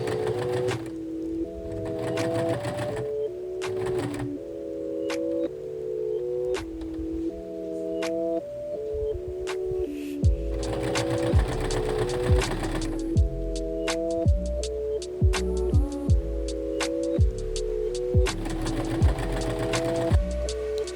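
A domestic sewing machine stitches two fabric pieces together for a detachable crochet collar, running in steady mechanical bursts with a rapid repeating needle clatter, briefly pausing and then restarting under light background music.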